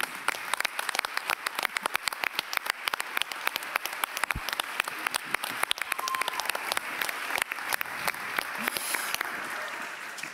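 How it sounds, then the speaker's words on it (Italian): Sustained audience applause for young participants at an economics and finance conference in Italy, a dense, steady patter of many hands clapping close by for about ten seconds with no talking. "Quindi applauso a voi."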